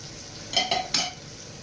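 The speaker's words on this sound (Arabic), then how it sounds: "هاي دوكا نخليه يتقلى لي مليح يتحمر لي من التحت هكذا" Sardines frying in a pan, soft background sizzle interrupted by a few short clattering scrapes of utensil against pan, close and brief.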